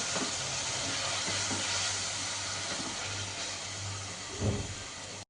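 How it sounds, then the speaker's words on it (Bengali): Ginger paste frying in a pan, a steady broad hiss and sizzle close up, continuous throughout with a brief louder spatter near the end. "আর 1 ইঞ্চি আদা পেস্ট করে নিয়েছি। এটাকেও ভালো করে আমি ভেজে নেব।"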